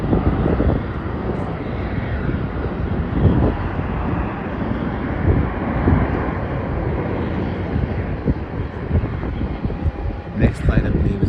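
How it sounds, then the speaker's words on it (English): Passenger airplane at Melbourne Airport, a steady broadband engine roar holding at even loudness with wind rumble throughout, fairly distant and continuous. "That's a flight from Xiamen in China."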